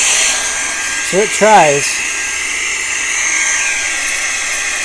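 A small VSGO handheld vacuum runs on its strongest hurricane mode, a steady high-pitched whine and airy rush filling the whole stretch, with a brief spoken phrase over it.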